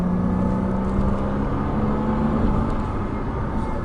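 A Porsche Cayman S on a track, its engine note rising under acceleration as a loud steady drone heard from inside the car.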